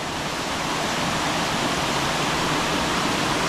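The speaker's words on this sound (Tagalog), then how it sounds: "Ari po yung talon ng tubig kupyas na iilan lang din po ang nakakaalam" A waterfall pours beside a river on a rural farm, a loud, even, unbroken roar of falling water that fills the whole scene with no other sounds.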